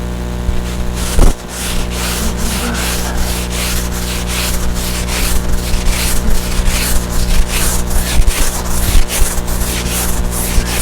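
Power sanding on the boat Pandora: a loud, steady electric sander hum with rhythmic rasping strokes repeating about once a second against the hull, close to the microphone with a brief knock early on.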